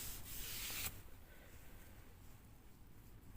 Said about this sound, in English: Give it a good sand.